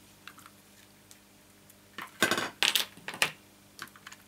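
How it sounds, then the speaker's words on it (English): Ribbon scissors cutting ribbon at a papercraft table, a few crisp close snips clustered in the middle with faint handling noise before and after, no speech. "Cut this one off if I can find my ribbon scissors."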